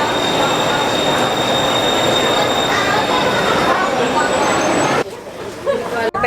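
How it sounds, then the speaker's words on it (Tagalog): Train running along the rails in Thailand, a loud steady rumble with high wheel squeal inside the carriage, with a sharp drop near the end. "The first time ko nakatry ng train dito."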